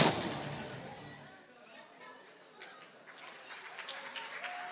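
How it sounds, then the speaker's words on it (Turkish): An awards-ceremony audience applauds as an actor arrives, the applause opening loud and then tapering into a sustained, moderate wash of clapping. "Büyük alkışlarla, büyük alkışlarla geliyor efendim."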